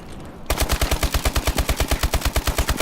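Rapid automatic fire from the ASM1 submachine gun in Call of Duty Advanced Warfare, a steady burst of about twenty evenly spaced loud shots that starts abruptly after a brief quiet lead-in.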